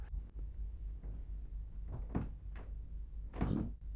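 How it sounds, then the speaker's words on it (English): A ship's hull and fittings creak all over as it rolls at sea with the engines running at full throttle, a steady low rumble under several sharp wooden-sounding creaks and groans, one louder strain near the end. "it's the ship that's creaking all over"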